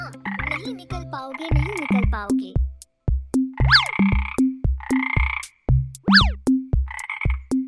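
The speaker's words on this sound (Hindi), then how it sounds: "बाहर बैठे मेंढक जोर जोर से शोर मचाने लगे" Frogs croak loudly in a quick, regular rhythm, repeated pulsing calls overlapping with higher warbling trills.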